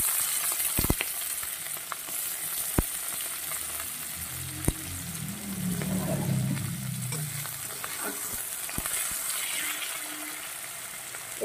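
Garlic, chilli and onion fry in hot oil with a steady, close sizzle that swells in the middle, broken by a few sharp clicks of a utensil against the pan.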